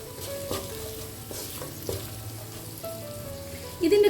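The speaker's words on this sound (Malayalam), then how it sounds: "ഉള്ളി ഒന്ന് പെട്ടെന്ന് വാടി കിട്ടാൻ വേണ്ടി നമുക്ക് കുറച്ച് ഉപ്പ് ചേർത്ത് കൊടുക്കാം." Onions sautéing with salt in a pan for egg Manchurian give a continuous sizzle broken by occasional scrapes and knocks of stirring, growing louder in the final moment.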